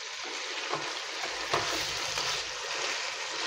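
Chicken curry with coconut gravy and garam masala being stirred in a hot pan, a steady dense sizzle with a few soft scraping strokes of the spoon, close and continuous, no talk.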